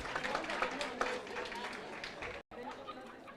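An audience at an investor education conference claps in a steady, dense wash of applause mixed with crowd chatter, with a brief gap near the end.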